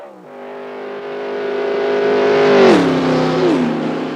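Race car engine revs in a steady, loud high-pitched whine, climbing gradually and then dipping briefly twice as the throttle shifts.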